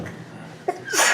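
A single sharp sneeze bursts out near the end, close by, after a brief quiet stretch with a small vocal catch.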